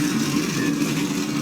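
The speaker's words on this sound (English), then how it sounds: "And the engines have been firing up here." Race car engines rumble in a steady, continuous drone at Bristol before Can-Am Pro Series cars roll off pit road, a broad, even engine sound with no clear revving peaks.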